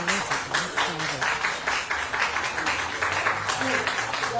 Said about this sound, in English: these people are out here clapping for a doctor